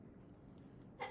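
A single quick sneeze bursts out near the end, sharp and bright, after a stretch of quiet room noise.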